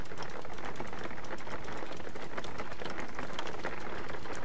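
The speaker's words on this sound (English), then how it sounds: "You hate the rain sounds?" Rain in the video game Jalopy, a dense, constant patter and hiss of drops on surfaces, loud and unbroken from start to finish.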